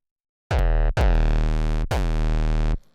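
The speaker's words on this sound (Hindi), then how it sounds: "कोई third party distortion unit use कर लेता हूँ, जैसे डीकैपिटेटर हो गया" Three sustained 808 bass notes distorted through a Decapitator unit, each starting with a gritty punch and long harmonic-rich tone, heard alone with short gaps between them.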